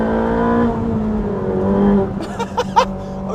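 A Ferrari 458 Speciale race car under full throttle during track testing, its engine a loud, steady, tonal roar close by that gives way to a few sharper bursts near the end.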